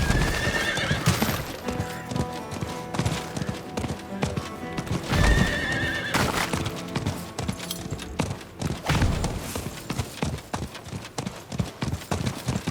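A horse in the Diablo 4 video game gallops with steady clip-clop hoofbeats and lets out loud neighs and whinnies over a dense, constant backdrop of game sound.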